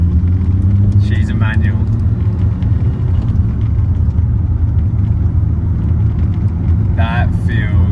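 A Toyota Soarer with a 1JZ engine and manual R154 gearbox driving, its loud steady engine rumble and road drone filling the whole stretch, with brief speech-like bursts near the start and end.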